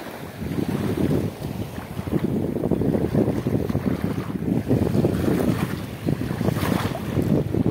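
Big waves slap and churn around a small fishing boat out at sea, with heavy wind buffeting the microphone in a loud, unbroken roar and no voices.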